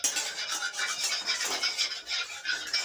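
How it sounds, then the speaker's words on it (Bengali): A kadai with leftover spices is washed out, giving soft scrubbing and rubbing strokes with wet swishes in an uneven rhythm, close and fairly quiet, with no voices. "কড়াইটা ধুয়ে নেওয়া হবে"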